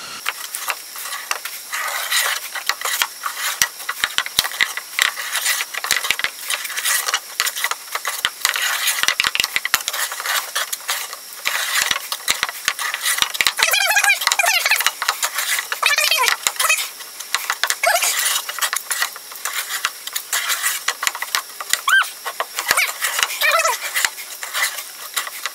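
TotalFair fairing compound is mixed by hand for a boat transom, a busy run of scraping, stirring and clattering strokes against a container, close and fairly loud, with no talking.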